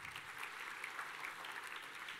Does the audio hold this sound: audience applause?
yes